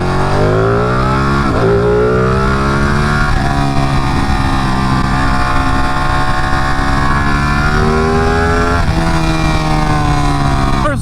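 A Ducati Panigale 959 motorcycle engine revs loud and close, its sweeping harmonic whine rising and falling through several throttle blips over about eleven seconds with no talking.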